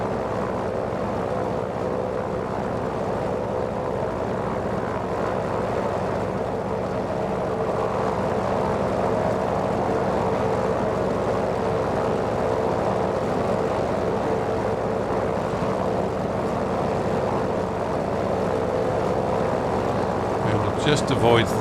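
A Grumman F4F-4 Wildcat's piston engine in Microsoft Flight Simulator drones steadily in flight over the English countryside, a loud continuous hum with no break across the whole stretch.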